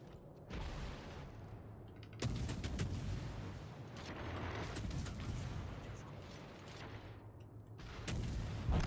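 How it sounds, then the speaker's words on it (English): Naval gunfire in World of Warships Legends as enemy ships shoot at the cruiser Lenin, a dense wash of booming salvos and rumbling cannon fire with sharp bursts layered over continuous game noise. "Oh, they're shooting the Lenin."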